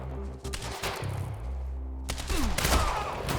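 Bursts of gunfire in the video game Quantum Break, dense overlapping shots with explosive thuds and scattered impacts, loud and continuous through the scene.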